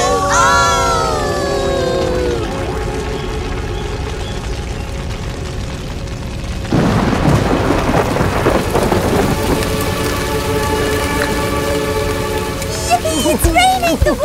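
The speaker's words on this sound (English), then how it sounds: "it may start raining" A thunderstorm with steady heavy rain fills the scene, with a loud rolling thunder crash midway; a musical score plays over it and voices call out near the end.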